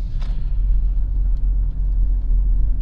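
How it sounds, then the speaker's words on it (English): Heavy road traffic rumbles steadily nearby, a continuous low roar of passing cars and engines with no talking over it. "Hang on here, traffic is insane."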